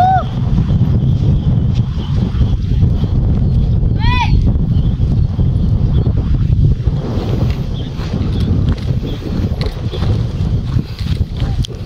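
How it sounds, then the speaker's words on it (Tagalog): Strong, cold wind on a forest mountain trail on the way to Malico, a steady broadband roar buffeting the microphone throughout, with people talking now and then. "Malamig dito, lakas ng hangin."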